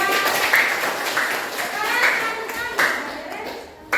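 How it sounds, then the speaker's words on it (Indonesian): A class of fifth-grade schoolchildren claps for a classroom group in bursts of rapid hand claps, with children's voices and talking mixed in throughout. "tepuk tangan untuk kelompok 3"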